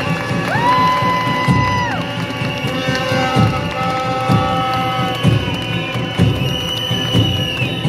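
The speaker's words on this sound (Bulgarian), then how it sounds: "Аплодисменти за всички вас!" Crowd at a Bulgarian street protest over the lev and the government's resignation, cheering and clapping loudly and steadily, with sustained horn-like tones and whistles sounding over the dense, close roar.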